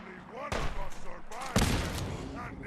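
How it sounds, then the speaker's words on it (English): Minigun fire in Fallout 4 comes as loud broadband bursts, one at about half a second and another near one and a half seconds, mixed with voices and game sounds. "Nice minigun."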